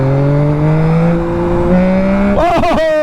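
A 2021 Yamaha MT-09 motorcycle engine climbs through a long rising rev, then snaps through quick sharp throttle blips and drops back as the rider tries to lift the front wheel, close and loud.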